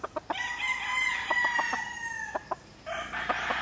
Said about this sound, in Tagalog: Ito ay kanawayon na itim ang paa.